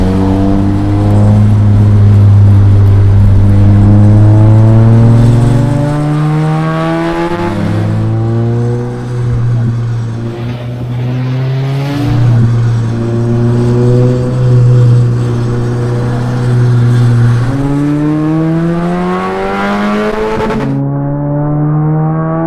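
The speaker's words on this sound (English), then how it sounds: "our Formula V1 cars" A Formula V1 race car drives by with a loud, close engine that revs up and shifts through gears in repeated rising pulls, droning strongly throughout with no talk.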